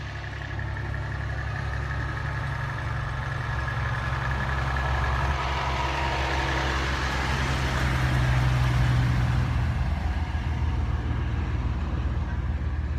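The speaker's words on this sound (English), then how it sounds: "goes the water truck" A water truck rolls along a drag strip at a spring nationals drag race, its engine a steady low rumble that swells slightly as it passes fairly close, with no talk over it.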